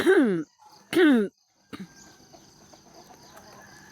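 A chicken gives two loud, drawn-out calls close by, followed by softer scattered clucks and faint rustling.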